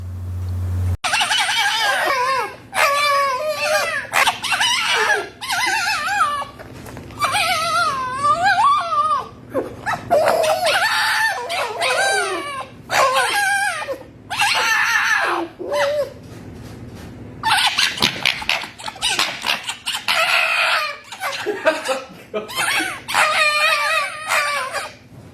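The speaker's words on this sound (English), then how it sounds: "two foxes who are now meeting each other for the very first time" Two foxes meeting for the first time yelp, scream and chatter in loud, excited bursts of shrill, wavering calls, close and continuous for about twenty-five seconds.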